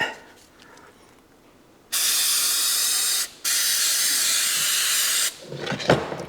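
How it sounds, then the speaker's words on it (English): A close aerosol spray hisses loudly in two long bursts with a short break between them, coating a worn boot under repair, followed by quiet rustling. "And then we're going to spray it."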